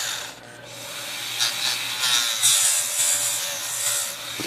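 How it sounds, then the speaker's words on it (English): Dremel rotary tool cutting a Smith Corona typewriter carriage release arm, a steady close, loud grinding whine with a rough scraping edge that rises and dips slightly as the bit bites into the metal, no speech. "Take the old Dremel tool out and just give it a quick little cut here."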